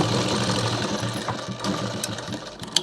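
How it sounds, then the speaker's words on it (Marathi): A sewing machine stitches a blouse for a young girl, a close, steady rapid mechanical chatter that runs throughout, ending with a couple of small clicks. "आता आपण इथे सिलाई मारून घेतली आहे."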